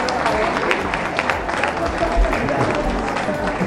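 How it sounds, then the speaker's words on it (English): Crowd applause at a Catholic women's club anniversary celebration, a steady wash of clapping with some background murmur filling the whole moment. "Another round of applause, Mr. Edward."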